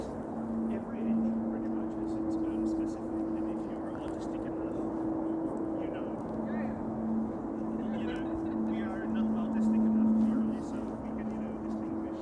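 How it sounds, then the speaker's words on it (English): A Lifeliner helicopter flies somewhere near Amsterdam Schiphol Airport as a faint, distant, steady droning hum that swells slightly, with a low murmur of voices in the background. "I am also hearing a helicopter somewhere"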